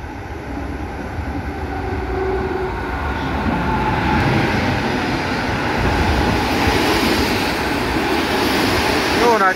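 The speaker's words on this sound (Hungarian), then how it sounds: "most fog beérkezni a soproni Gyesev" GySEV train from Sopron pulling into a station, a steady rumbling rail roar that slowly grows louder with faint wheel squeal near the end and some wind noise, with no clear talking.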